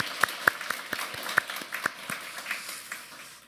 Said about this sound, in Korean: 우리 박수로 한번 영광 돌리겠습니다.